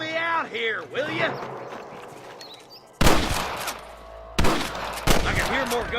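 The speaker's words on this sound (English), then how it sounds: "I can hear more gunshots." Gunfire erupts in the Western video game Red Dead Redemption, sharp loud bursts of shots after a stretch of music and voices, with speech heard early on.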